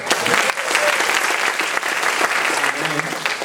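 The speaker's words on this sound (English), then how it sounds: "Big round of applause for Ron." Applause for band members at a live show, a dense patter of many hands clapping steadily throughout, with a voice speaking over it.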